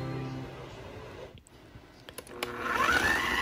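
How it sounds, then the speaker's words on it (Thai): Electric blender pureeing ingredients for Lao som pa, starting after a few clicks and handling knocks, then whirring up to a loud, steady motor whine with rising pitch near the end. "ใส่เครื่องปั่นเนาะ"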